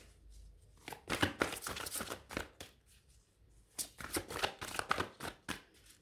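Tarot cards shuffled and laid out in a series of crisp, rapid riffling bursts, pausing briefly in the middle before another run of close, papery flicks and slaps.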